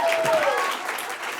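A live audience breaks into dense, steady applause, with a voice briefly audible over the clapping at the start.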